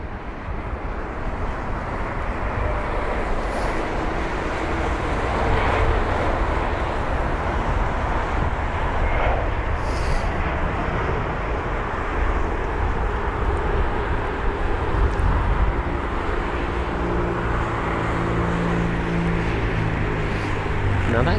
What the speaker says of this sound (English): We've already got another aircraft pushing back in front of us, and that's going to be the Lufthansa 320 Neo